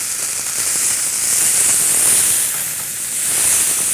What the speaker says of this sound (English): So let's give that one nice sear.